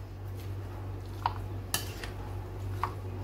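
A spoon clinks a few times against a bowl as chana chaat is mixed with tamarind chutney, faint and sparse over a low steady hum.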